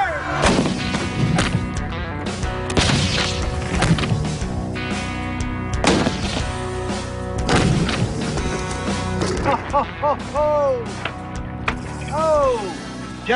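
A U.S. Army artillery gun fires, with heavy booms standing out over a loud, continuous musical soundtrack.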